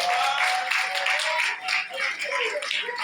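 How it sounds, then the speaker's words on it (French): Audience at an award ceremony applauding for the winner's wife, a continuous wash of many hands clapping, fairly even in loudness with slight dips, with faint voices mixed in. "Je vous demande d'applaudir."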